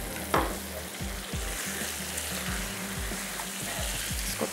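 Meat karahi with chopped ginger frying in a pan, a steady loud sizzle broken by repeated scraping stir strokes at an irregular rhythm.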